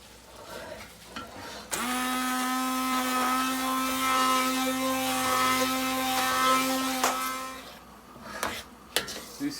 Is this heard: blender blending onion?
yes